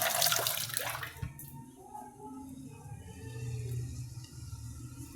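Tap water runs steadily in a home kitchen while two small pieces of cinnamon stick are rinsed under it. The splashing is louder at first, followed by a single knock and then a softer, continuous stream.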